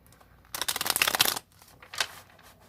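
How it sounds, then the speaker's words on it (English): A tarot card deck being shuffled by hand, one dense riffling burst of about a second followed by a shorter softer shuffle, close and clear in a quiet room. "It's so weird to shuffle my deck like this"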